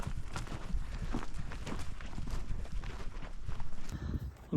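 Cows walk and shuffle through dry, dusty ground in a steady, dense rumble of hoofbeats and scuffing, close by and continuous with no clear talk.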